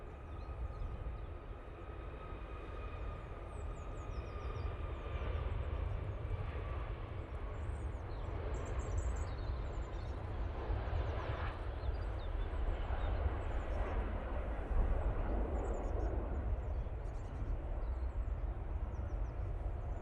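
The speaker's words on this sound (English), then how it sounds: "Ryanair now on the roll. Using the 737 MAX 8." A Ryanair Boeing 737 MAX 8 takes off at Manchester Airport, its engine roar heard from a distance and building steadily over about twenty seconds with broad rumbling noise.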